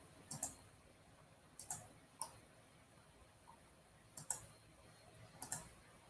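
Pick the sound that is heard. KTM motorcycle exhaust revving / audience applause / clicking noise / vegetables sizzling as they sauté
clicking noise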